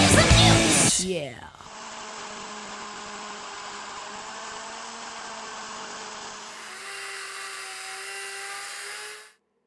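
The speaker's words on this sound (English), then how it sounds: "I did get a cutoff wheel for my Dremel and cut the rod down." After a brief loud clatter, a Dremel rotary tool fitted with a cutoff wheel cuts through a rod with a steady high whine for about eight seconds, its pitch shifting partway through before it winds down.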